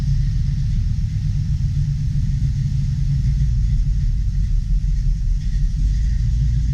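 A 1972 Chevy Nova SS V8 with freshly reset Fitech fuel injection and a new battery idles nearby, giving a steady, deep low rumble that holds even throughout with no voices.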